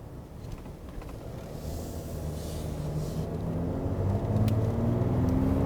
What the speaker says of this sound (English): So this is what the diesel actually sounds like.